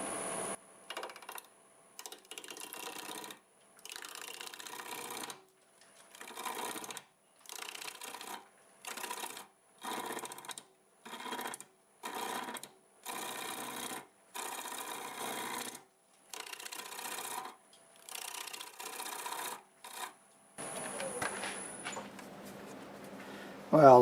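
A wooden bowl blank spinning on a lathe at about 933 RPM while a 5/8 bowl gouge cuts it, giving repeated whirring, scraping bursts broken by short quiet gaps, at moderate loudness up close.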